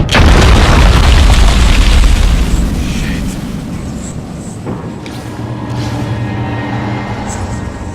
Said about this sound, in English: Time for the shotgun.